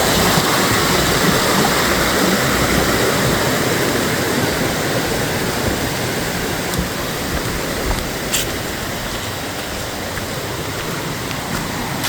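Small waterfalls on the Guaxinduba river rush in a loud, constant, close roar of tumbling water that holds steady throughout.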